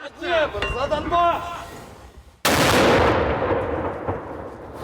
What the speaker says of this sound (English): We see a Ukrainian mortar team dart into position and target the enemy nearby